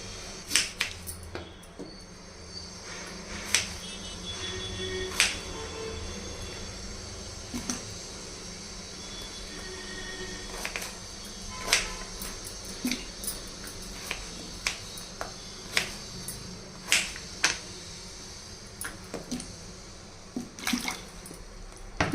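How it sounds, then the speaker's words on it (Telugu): Knife chopping peeled elephant foot yam into pieces, with sharp, irregular cutting clicks close by and a wet, watery background, no talking. "ఈ విధంగా చెక్కేసిన తర్వాత మనకు కావాల్సిన సైజులో ముక్కలు కట్ చేసుకోవాలి"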